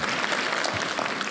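University audience applauding at a presidential distinguished speaker series event, a brief, steady wash of clapping from a crowd, moderately distant.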